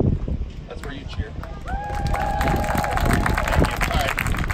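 An audience at a band parent preview show cheers and whoops in a steady, building roar with some clapping, while a voice carries over the crowd partway through.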